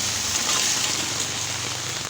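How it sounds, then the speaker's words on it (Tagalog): Steady rain falling on a rainy afternoon, a dense close patter with constant hiss and no breaks. "Maulan na panahon."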